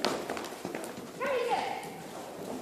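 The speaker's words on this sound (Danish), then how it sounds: "Min hest galopperer." A galloping horse's hooves beat out a steady rhythmic pattern at close range, with a voice speaking over the hoofbeats partway through.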